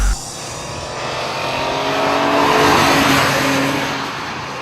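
A BMW M3 GT2 race car, a 375 kW Le Mans racer, its engine roaring loud and close in a sustained high-revving note that swells and then eases slightly, with no voices.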